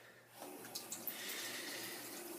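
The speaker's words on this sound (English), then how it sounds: "I have to get some warm water" Warm water runs steadily from a household tap into a sink while someone prepares to shave, a continuous close hiss and splash with a few small clinks near the start.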